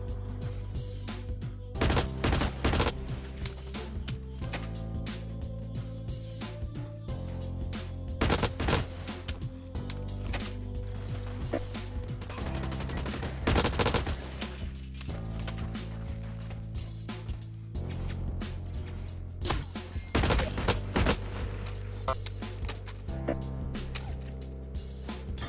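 Gunfire in the shooter video game Blacklight Retribution, sharp repeated shots and short bursts of tap firing over a constant low game soundtrack, loud and close.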